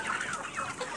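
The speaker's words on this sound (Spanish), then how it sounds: "Como pueden ver esta gallina, vamos a sacar su descripción un poco." A young crossbred chicken about two and a half months old, grey-and-white, clucks continuously while held close in a home backyard flock, with busy overlapping clucks and no talk.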